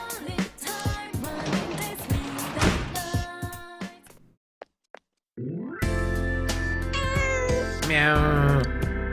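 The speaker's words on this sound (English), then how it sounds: "There's a cat on the roof." A cat meows on a rooftop in Persona 4, a few loud, clear calls mixed with game music and sound effects and broken by a short silent pause.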